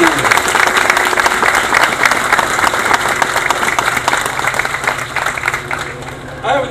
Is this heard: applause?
yes